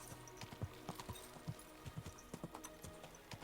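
Horse hooves clip-clop at a steady walking rhythm along a path in the video game Kingdom Come: Deliverance II, with fairly quiet, evenly spaced footfalls and nothing else over them.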